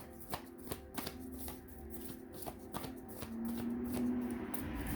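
Tarot cards are shuffled by hand with a crisp papery riffle, the card flicks landing in irregular bursts, close and fairly quiet, with a low steady hum underneath.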